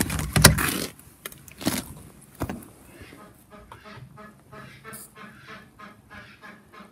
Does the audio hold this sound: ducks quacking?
yes